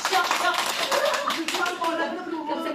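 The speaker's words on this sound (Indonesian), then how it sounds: "tepuk tangan untuk kita semua" A group in a school classroom claps their hands together, a lively burst of rapid overlapping claps with voices chattering underneath.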